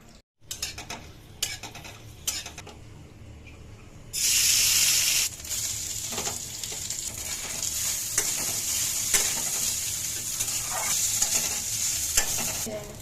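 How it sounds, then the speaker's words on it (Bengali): Chicken bharta ingredients fry in a little oil, with a spatula scraping and stirring against the pan, bursts of loud sizzle and clattering cookware, all near and without talk. "এখন একটু একটু তেলে ভাইজা"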